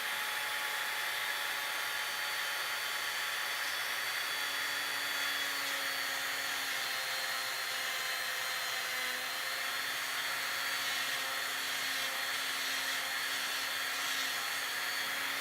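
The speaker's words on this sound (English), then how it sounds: "I have a variable speed of rotary tool, and at least for mine, I'm running it at its slowest speed." A variable speed rotary tool running at its slowest setting grinds a dog's nails, giving a steady faint motor whine whose pitch shifts slightly as the tool meets each nail.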